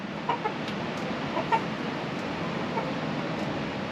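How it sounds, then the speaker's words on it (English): A single chicken in a cold Alaskan yard gives a few soft, scattered clucks over a steady wind-like background. "Oh, and we got one chicken."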